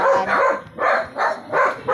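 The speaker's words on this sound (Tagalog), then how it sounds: "Pasensya na po ha, maingay na ang mga aso." Dogs barking outdoors near a plant garden, a run of loud, close barks repeating roughly every half second with short gaps.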